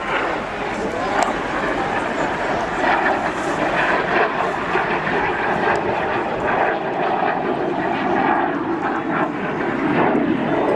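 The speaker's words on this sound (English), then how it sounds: "you'll see the reheat light up at the tail of the aircraft like two red-hot pokers, and that's certainly a lot noisier" A jet aircraft with reheat performs at the Wales National Airshow 2017, a loud continuous engine roar under a commentator's voice over a public address system, with dogs barking faintly in the crowd.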